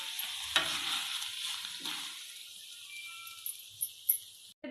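Fried prawns are scraped out of a pan into another bowl with the stove switched off: a fading sizzle broken by a few utensil scrapes and clinks, then near quiet with scattered small knocks.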